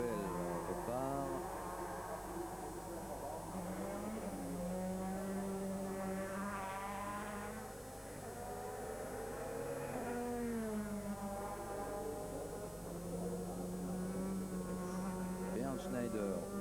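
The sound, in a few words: Opel DTM race car leaving the pits at Hockenheim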